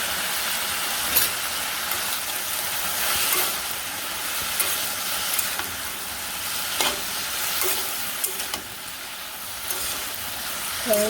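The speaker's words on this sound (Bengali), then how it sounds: "ভালো করে একটু গুঁড়া দিয়ে ভাজি ভাজি করে নিই" Spices with salt and turmeric sizzle and crackle steadily in a hot pan, with occasional scraping stirs, close and fairly loud with no talking.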